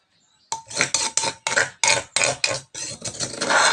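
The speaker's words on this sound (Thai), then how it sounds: "ตักใส่ถ้วยเลย" A ladle serves eggplant soup with egg from a pot into a bowl, scraping and clinking against the metal in a quick run of about eight distinct, close strokes, then a steadier clatter at the end.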